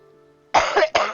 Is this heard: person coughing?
yes